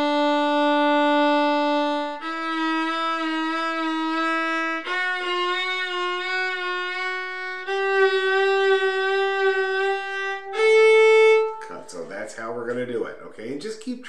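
Sustained single notes with a slight wobble step upward through a scale, each pitch held about two seconds, played cleanly and moderately loud, followed by a brief spoken voice at the end.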